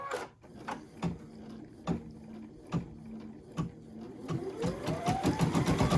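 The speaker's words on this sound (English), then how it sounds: "Listen to how quiet this machine is." A Brother VE2300 embroidery machine stitches nearby in a steady, quick mechanical rhythm of regular ticking beats, fairly quiet and even, with the pace seeming to pick up slightly toward the end.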